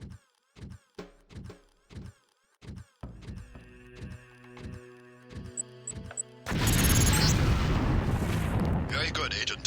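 A LAM mine detonating in the Deus Ex video game, sharp percussive hits followed by a loud, sustained roaring blast that dominates the end.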